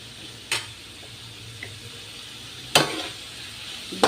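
Food sautés in a pan with a soft steady sizzle, broken by a few sharp utensil clacks and scrapes against the pan.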